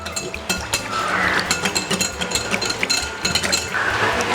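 A utensil clinks rapidly and repeatedly against a bowl as milk is stirred into a mixture, close and clear over a soft background.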